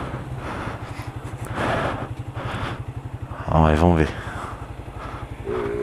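A motorcycle idles with a fast, steady putter on a sloping downhill street, briefly revving louder partway through while someone talks over it close by.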